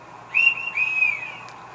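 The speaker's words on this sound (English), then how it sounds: "F5 is another conductor whistle." Short conductor's whistle sound effect from a Roco model of a Swiss mountain locomotive: a shrill, moderately loud tone that starts abruptly, dips briefly, then holds and fades away, with no talk over it.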